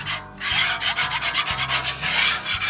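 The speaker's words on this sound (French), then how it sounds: "Je vais la gratter un petit peu avant de" A plaster spatula scraping a gas plancha griddle being cleaned of rust after winter, a loud, continuous rasping scrape in rhythmic strokes, close up with no speech.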